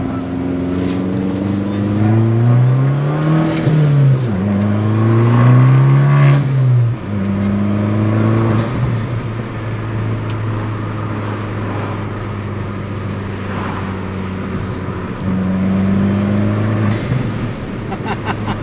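Abarth engine with a new intake pulls through the gears while driving, rising revs sweeping up and dropping at each shift, then holding a steady drone inside the car; brief speech sits under the engine.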